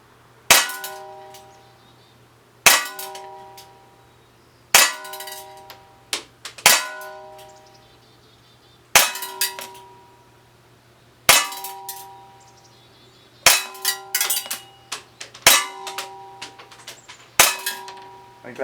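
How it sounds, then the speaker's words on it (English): Crosman C41 CO2 BB pistol, a Walther P38 replica, fired at a metal target, each shot a sharp pop followed by a bright ringing clang, about a dozen hits in uneven clusters with brief decays between. "I'm going to go back and shoot a few more just for fun. Empty the magazine."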